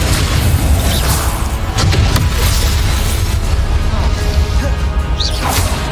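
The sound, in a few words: spell blasts in the Hogwarts video game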